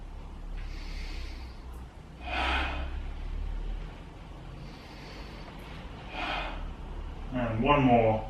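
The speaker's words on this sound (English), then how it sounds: "Just breathe in throughout." Slow, audible breaths drawn in and let out during a guided mobility exercise, several soft airy inhales and exhales spaced a couple of seconds apart, close to the mic, with a brief voiced sound at the end.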